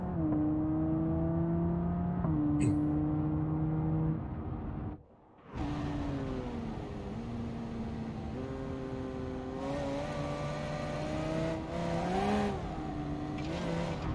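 A Civetta Scintilla engine in BeamNG.drive revs in long, sustained whining tones that rise and fall, briefly drops off, then climbs again with continued revving, loud and close with no talking.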